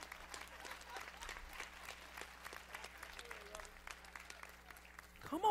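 A church congregation at a youth day service gives sparse, thin applause, a scattering of distant claps that stays faint throughout, with a brief louder bump at the very end.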